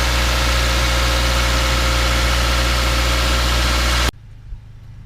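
A Subaru engine idles after a tune-up with a steady, even hum heard up close for about four seconds, then cuts off abruptly, leaving faint room noise and a small thump.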